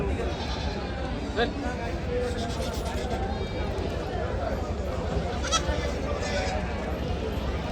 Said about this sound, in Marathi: ही जे पिल्लं आहेत ही शेळ्यांचीच पिल्लं असतात